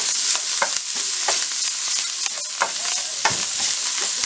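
A spoon stirs onion buttermilk curry in a pan, with scraping strokes and soft sizzling repeated in an irregular rhythm, close up and without any voices.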